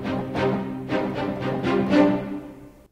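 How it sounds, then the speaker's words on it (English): Cinematic Studio Strings spiccato sample library playing a handful of short, detached bowed string notes in an uneven rhythm, each with a crisp attack and brief ringing tail, moderately loud and alone. "This is Cinematic Studio Strings, the spiccato. Sounds like this."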